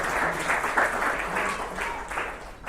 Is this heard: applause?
yes